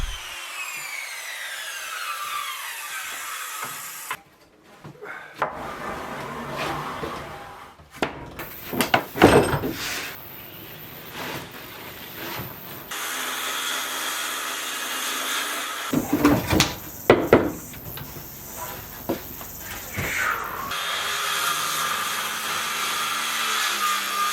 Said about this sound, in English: just keep cutting the slab up till it was all gone basically